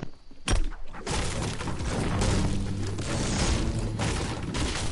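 A grenade explosion in Fortnite erupts with a sudden loud boom, followed by a few seconds of dense crackling and rumbling debris.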